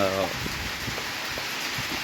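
Steady rain hisses softly in the background, a continuous even patter, with a brief voice heard at the very start.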